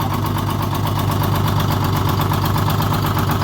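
A vehicle engine idles steadily as it backs toward a curb, a loud, close, continuous rumble with a low knocking pulse throughout.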